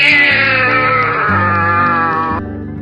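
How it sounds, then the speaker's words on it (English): A domestic cat meows loudly and steadily in one long, drawn-out call close to the listener, fading slightly at the end. "Cat."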